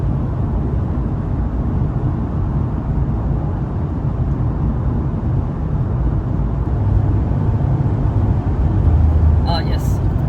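Mercedes CL65 AMG with the M275 engine and a cylinder 4-6 misfire, driven on a test run; a steady, loud engine and road rumble throughout, with no clear speech.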